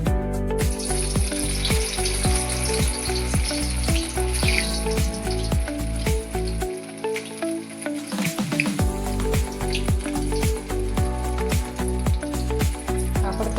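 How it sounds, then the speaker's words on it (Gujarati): Stuffed papad rolls fry in hot oil with a dense, continuous sizzle and crackle. Scattered sharper pops sit over it, up close with no talk. "પછી તળી નાખવાનું."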